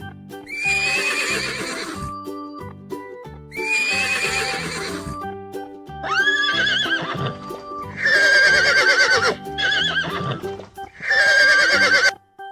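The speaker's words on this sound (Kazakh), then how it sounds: "Жылқы." A horse whinnies five times in a row, loud and close, each neigh a shrill rising-and-falling call with faint hoof clip-clop and steady background music underneath.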